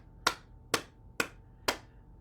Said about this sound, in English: we are doing clapping, cupping the inside of the elbows and the underarm